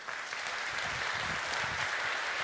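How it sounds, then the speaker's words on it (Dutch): An audience at a climate policy discussion applauds in a steady, even wash of clapping heard from within the room, moderately quiet and sustained throughout. "Ik wil een heel groot applaus voor Ed Nijpels, Helene de Koning, Detlef va"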